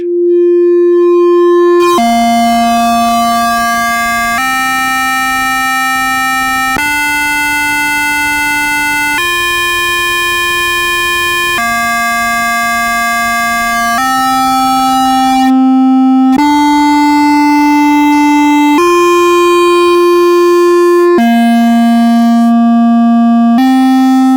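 Eurorack synthesizer module putting out a bright, buzzy sustained tone rich in harmonics, its pitch stepping up and down in discrete jumps every couple of seconds as the ratio changes, loud and steady, no voices.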